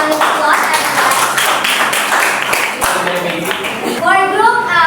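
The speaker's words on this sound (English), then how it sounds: "can we give them a round of applause, everyone?" Classroom round of applause for a winning student group, dense clapping from many hands with children's voices chattering over it throughout.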